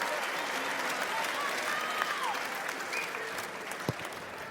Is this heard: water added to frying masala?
no